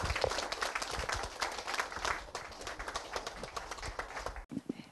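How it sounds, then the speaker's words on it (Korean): A lecture audience at a history forum claps to welcome a professor, producing dense, continuous applause at moderate distance that cuts off abruptly near the end, with a few faint sounds after. "박수로 환영해 주십시오"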